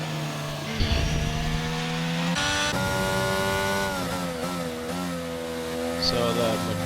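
Race car engines in a racing video game, including a McLaren Mercedes, whining and rising in pitch through gear changes, loud and continuous with overlapping cars.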